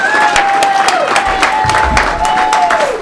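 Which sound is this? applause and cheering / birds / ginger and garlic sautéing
applause and cheering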